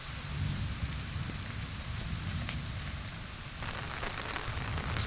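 Heavy rain pours steadily in a dense, constant hiss with deep rumbling underneath, no voices, continuous throughout.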